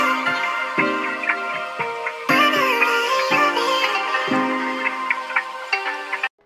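Music loop from FL Cloud plays with plucked, guitar-like melodic notes over a steady repeating pattern, loud and close, with no talking, cutting off cleanly at the end.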